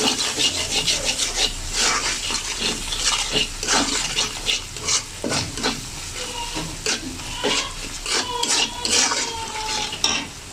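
Cumin and ground spices are stirred in oil in a pan, a close, rhythmic scraping and rubbing of a spoon against the pan bottom with faint sizzling underneath, repeating steadily throughout.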